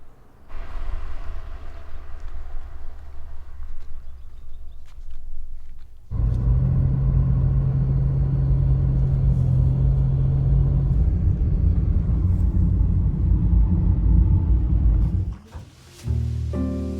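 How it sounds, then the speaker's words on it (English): A car passes by on an island road, a steady engine rumble swelling from about six seconds, holding near and loud, then fading out with a brief dip before the clip ends, with no talk. "And occasionally a car passing by."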